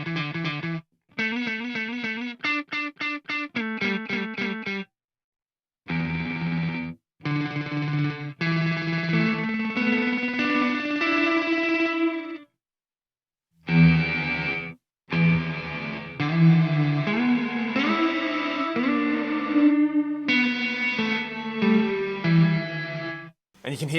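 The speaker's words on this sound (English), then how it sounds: "it's going to subdivide that into a number of delays" Electric guitar through an Eventide H9 multi-tap delay plays short phrases and chords, each note repeated in subdivided echoes that pile up and trail off between pauses.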